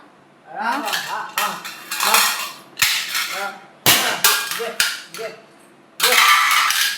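Loud metal utensils clatter and bang close by in several bursts, pots and dishes crashing together with short gaps between clusters.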